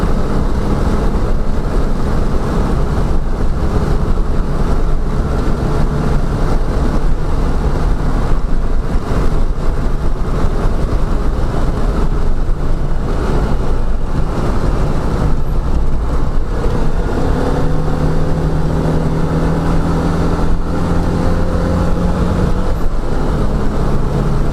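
Citroen 2CV cruising in fourth gear at close to 60 mph, with a loud, continuous engine drone and road and wind roar filling the cabin throughout.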